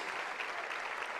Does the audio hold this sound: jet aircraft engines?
no